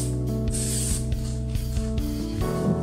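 Spray can hisses protective coating onto plastic car headlights in a few quick bursts, over a steady mechanical hum with light rhythmic clicks.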